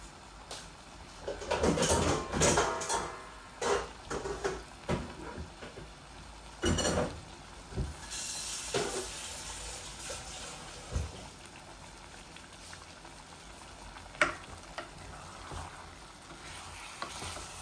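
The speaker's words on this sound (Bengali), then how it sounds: "অল্প একটু ঝোল দিয়ে দিচ্ছি।" Egg and potato curry sizzles in a pan as a little gravy is splashed in, with bursts of frying hiss and scraping stirs that come and go before settling into a quieter simmer.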